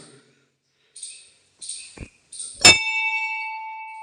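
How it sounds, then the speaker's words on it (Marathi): A single temple bell is struck once, loud and close, then rings on with a long sustained tone that slowly fades, after a few soft scuffs and a dull thud. "इथं लावलेली आपण घंटी आहे ते आपण वाजवली बघू शकता"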